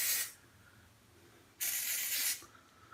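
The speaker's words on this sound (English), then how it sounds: "give it a spray" Two bursts from an aerosol can sprayed onto a razor, a short hiss at the start and a longer one after a pause, close and fairly loud against a quiet background.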